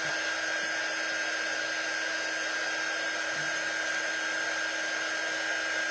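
Hair dryer blowing on wet paint on a shamrock door tag, a constant close whooshing motor hum that runs steadily throughout without any talking.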